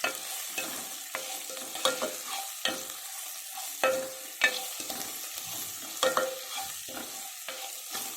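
Onions frying in oil in a pan for spinach kichidi, with a spoon repeatedly scraping and stirring; sharp clinks and scrapes recur every second or so over a continuous soft sizzle, close and clear with no talking.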